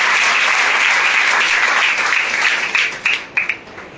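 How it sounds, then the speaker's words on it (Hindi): A crowd claps loudly and continuously, the applause thinning into scattered claps and a few cheers at the end. "उनके लिए जोरदार ताली होगी।"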